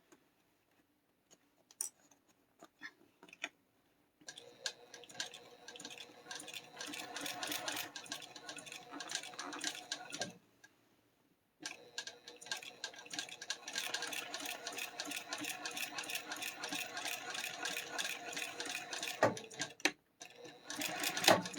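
Home sewing machine running in bursts as fabric is stitched along a seam allowance, a steady rapid mechanical whir with ticking needle strokes, pausing briefly between runs, close and fairly quiet, no talk.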